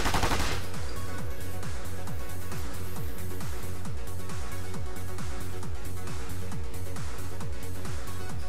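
Rapid, steady rifle fire rings out in quick repeated shots, loud and continuous for the whole stretch with no voices.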